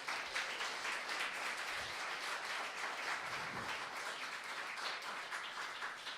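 Steady applause from a symposium audience for a book-reviewing panel, a dense, even wash of clapping that holds at moderate, slightly distant level without any voices.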